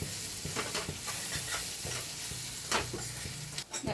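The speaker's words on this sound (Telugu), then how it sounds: "అది ఫ్రై అవుతుంది ముల్లంగి." Radish pieces sizzle steadily while frying in a pan, with intermittent scraping and stirring strokes from a spatula throughout, close and moderately loud, with no voices.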